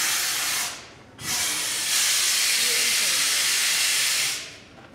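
Helium gas hisses steadily from a pressurized tank as a container is inflated during a science demonstration, a loud broadband rush that stops briefly, then resumes and holds for several seconds before cutting off.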